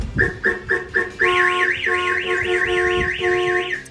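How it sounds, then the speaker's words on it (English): A newly installed car alarm on a 1966 Ford Mustang blares nearby, starting with a few short repeated chirps, then switching to a loud continuous warbling siren that rises and falls steadily. "when the alarm triggers, it does the starter kill"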